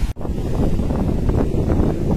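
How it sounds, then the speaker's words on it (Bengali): A gentle breeze blows across the water in the Sundarbans aboard a luxury ship. It comes as a loud, steady wind rumble right at the microphone, broken only by a brief dip near the start, with no voices. "এত সুন্দর একটা কি ঝিরঝিরে বাতাস"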